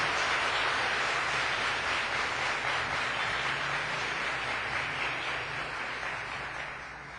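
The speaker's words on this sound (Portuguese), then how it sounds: "Se você crê, aplauda o Senhor nessa noite" Church congregation applauding the Lord during an evening service, a broad wash of steady clapping from many hands that fills the room, holding for several seconds before gradually tapering off.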